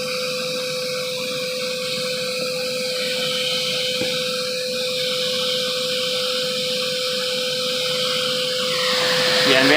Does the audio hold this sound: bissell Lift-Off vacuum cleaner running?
yes